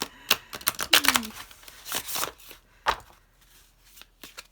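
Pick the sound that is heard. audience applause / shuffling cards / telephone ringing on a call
shuffling cards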